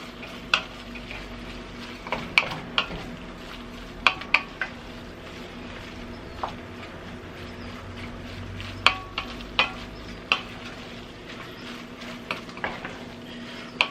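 Garlic sizzling in a pan for chili, a soft steady sizzle under frequent clinks and scrapes of a utensil stirring against the pan.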